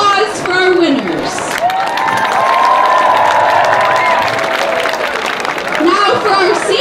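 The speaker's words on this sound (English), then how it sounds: "Can we please get a round of applause for our winners?" A loud crowd at a high school homecoming football game claps, cheers and whoops for the winners, with shouting voices and a sustained roar throughout.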